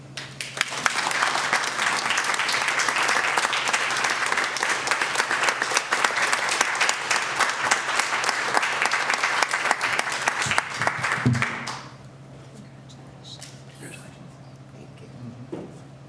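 A banquet audience at a human rights awards breakfast applauds steadily for about eleven seconds to congratulate an award recipient, then the clapping stops abruptly and the room goes quiet.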